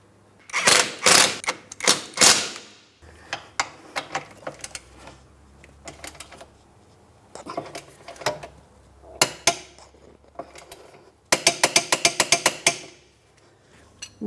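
A hand ratchet clicks in quick bursts of rapid pawl ticks, separated by short pauses and metallic clunks, as it tightens the front control arm mounting hardware on a 2004-2008 Pontiac Grand Prix, recorded up close.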